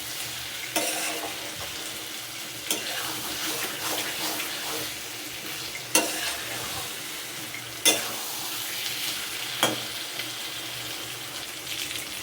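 Potatoes and spices sauté in a pan for homestyle new-potato curry, a steady sizzle broken by spatula scrapes and stirring knocks every couple of seconds, close up with no talking.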